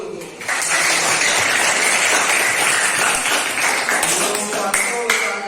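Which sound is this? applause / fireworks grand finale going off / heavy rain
applause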